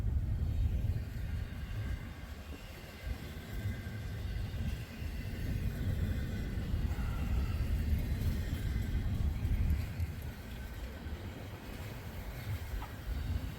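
A train rolls past on a wintry day in Sandusky and Avery, Ohio, as a steady, continuous low rumble of wheels and cars that holds level throughout without pause.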